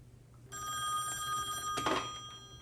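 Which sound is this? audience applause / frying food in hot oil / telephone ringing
telephone ringing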